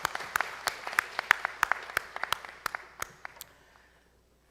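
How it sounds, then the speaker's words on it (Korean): A church congregation at a Sunday morning service claps in thanks. The claps are scattered and fairly sparse, sound from a distance in a reverberant hall, and fade out over about three seconds. "우리 예배 받으신 하나님께 뜨겁게 감사의 박수를 드립니다."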